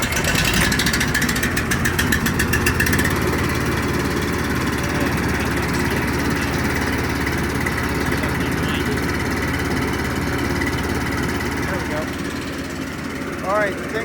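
Honda-powered Billy Goat F1302H walk-behind blower engine running steadily at low throttle after a cold full-choke start, a loud continuous drone with a brief rattle near the start, with a person speaking over it.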